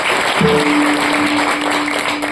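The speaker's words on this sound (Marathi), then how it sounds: "एकदा अन्नदात्या करता टाळ्या वाजवा" An audience claps steadily for the meal donor, a dense, continuous patter of many hands throughout, with a faint steady tone beneath it.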